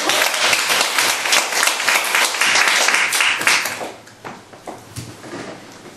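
An audience at a business award gathering gives dense, steady applause that carries on for several seconds, then thins into a few scattered claps before fading.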